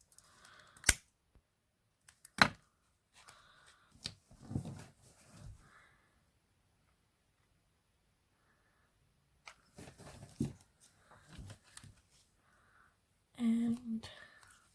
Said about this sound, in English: Cut that excess off.